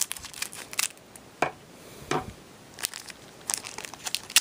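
A foil wrapper on a pack of Harry Potter and the Half-Blood Prince trading cards crinkles and tears in several short, close bursts separated by brief pauses, with no talking.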